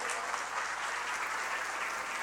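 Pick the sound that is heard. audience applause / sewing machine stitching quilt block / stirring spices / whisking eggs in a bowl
audience applause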